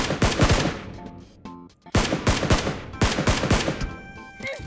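Gunfire in the mobile battle royale game PUBG Mobile, with close, loud rapid bursts of automatic shots in three clusters separated by brief pauses, plus a few softer clicks in between.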